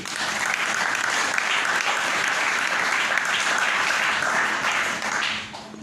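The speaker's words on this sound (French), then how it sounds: "Est-ce que nous pouvons applaudir notre Dieu?" Congregation in a church breaks into sustained applause, a dense even wall of clapping lasting several seconds before fading out at the end.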